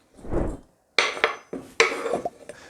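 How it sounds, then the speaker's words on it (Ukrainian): An onion is sliced with a knife on a cutting board, heard as a soft thud followed by several sharp, close chopping strokes in quick bursts. "Наступним етапом нарізаємо цибулю."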